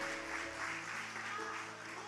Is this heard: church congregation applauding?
yes